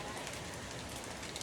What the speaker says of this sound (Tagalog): Milagro, nag-ulan.